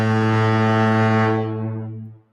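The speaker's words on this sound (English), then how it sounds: "We're going to be hearing a lot of them touchdown foghorns in the offseason and the preseason and the season." A touchdown foghorn sound effect for a football team sounds one deep, loud, sustained blast that holds steady for over a second and then fades away, alone with no voices.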